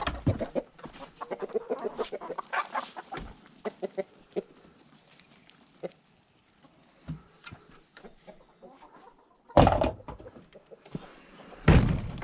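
Chickens cluck and chatter nearby in irregular bursts, with occasional louder knocks and clatter, and a quieter stretch in the middle.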